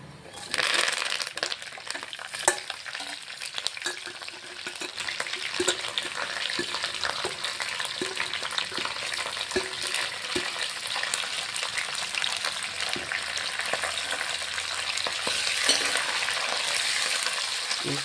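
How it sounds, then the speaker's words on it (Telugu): Onion, curry leaves and green chillies frying in a pan, a dense, steady crackling sizzle close by, with scattered stirring clicks and scrapes, continuous from start to end. "ఉల్లిపాయ, కరివేపాకు, పచ్చిమిరపకాయలు వేసుకుందాం. ఇవి వేగండి."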